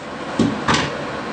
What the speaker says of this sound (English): go ahead and open the door out of the way